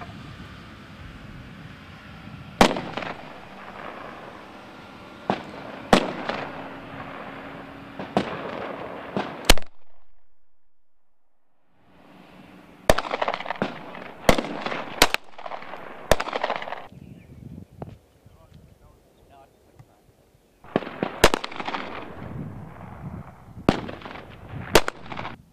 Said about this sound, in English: Fire line is hot. Fire when ready.